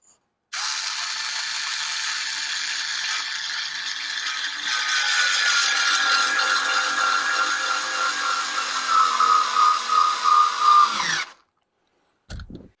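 A Dovaman E009A 4V cordless screwdriver drives a screw into wood, its motor whirring steadily close by and rising in strain for about ten seconds, ending with a few rattling stutters before stopping, followed by a brief later noise.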